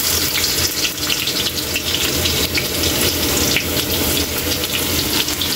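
Ginger dropped into hot oil for adobong pusit, a strong steady sizzle close up with a rushing, water-like hiss and scattered spitting crackles that last the whole time.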